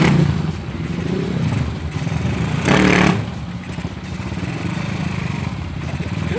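Steady engine drone of a Honda CB motorcycle being ridden, with a rising revving surge around the middle and continuous road and wind rumble throughout, fairly loud and close.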